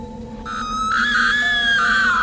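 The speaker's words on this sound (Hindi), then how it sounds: "प्रिया के मुंह से चीख निकल जाती है।" A woman lets out a sustained, piercing scream of fright, rising and wavering in pitch for about two seconds, loud and close with no talk, used as a horror audiobook sound effect.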